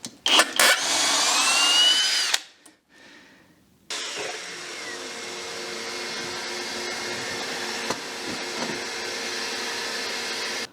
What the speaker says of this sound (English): Now I probably pushed that miter saw a little bit beyond its capability, but I cut it nonetheless